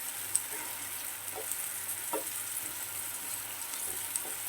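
Apples caramelize in a pan for crêpes with a steady close sizzle and crackle, broken now and then by soft ticks of a spatula, no voices.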